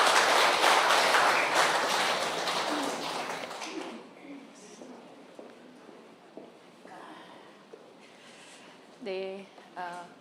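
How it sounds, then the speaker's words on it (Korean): Audience applause welcoming a doctor to the stage at a knee-surgery health forum, loud dense clapping for about four seconds that fades into quiet room noise, followed by a brief voice near the end. "박수해서 환영해 주세요"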